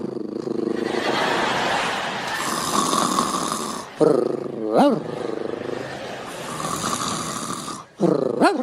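A voice imitates a dog growling on a comedy stage, with rough, snarling growls repeated in long stretches and broken by sharp short yelps.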